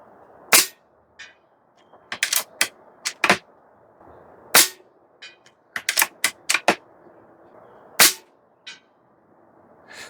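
A Barra 250Z PCP airgun fires pellets in a string of sharp, crisp cracks, each short and snappy. The shots arrive irregularly over a quiet background, close by and clearly heard with no talking.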